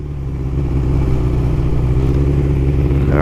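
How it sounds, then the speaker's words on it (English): A 1981 Honda CB900F motorcycle engine runs steadily up close, a loud even idle with a throbbing low rumble and faint mechanical clatter, no voices. "The bike does run pretty good."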